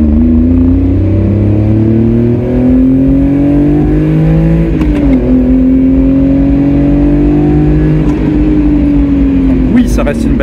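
A Honda Beat car engine hums steadily while driving, its pitch rising and dipping slightly as it shifts, with someone talking over it.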